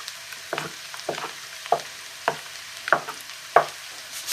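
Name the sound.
stirring tomato pulp and spices sizzling in a pan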